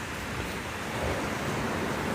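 Water features in the Barbican, London, give a steady broadband wash of splashing water, continuous and fairly even throughout, with no voices over it.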